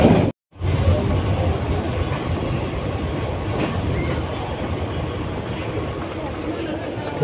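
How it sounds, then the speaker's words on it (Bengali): The Bolaka Commuter train rumbles loudly and steadily into Tongi railway junction, heard up close from beside the tracks, with a continuous roar of wheels and carriages. "টঙ্গী রেলওয়ে জংশনে প্রবেশ করেছে বলকা কমিউটার ট্রেনটি"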